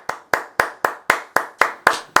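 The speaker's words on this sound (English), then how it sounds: "little round of applause" A short round of applause during a discussion of a motor racing win: about nine crisp, separate hand claps in a slow, even rhythm, close and clear against a quiet background, with no talking.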